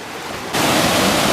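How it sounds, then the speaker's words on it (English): Rushing water from a waterfall, a steady broadband roar that swells abruptly louder partway through and then holds constant, with no voices. "There's the waterfall."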